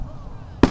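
A Canada Day firework goes off in a single sharp, loud, close bang at the very end, after a brief stretch of quiet background.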